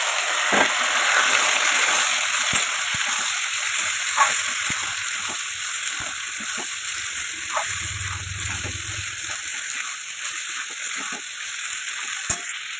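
Sago pearls (sabudana) frying in a pan give a steady close sizzle with scattered clicks and stirring knocks, even and continuous, with no talk.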